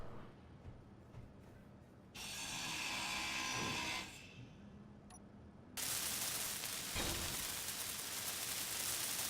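A grinder in the Space Engineers video game cuts down steel blocks with a harsh, hissing, noisy whine. It comes in two loud bursts separated by quieter gaps and sounds close.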